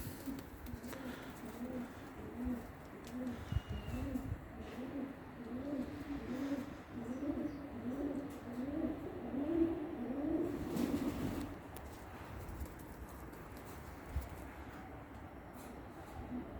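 Pigeons coo in a steady run of low, throaty, rolling calls, several birds overlapping close by, with faint rustling in the background.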